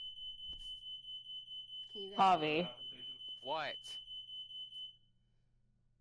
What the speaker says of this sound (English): Fire alarm keeps going off.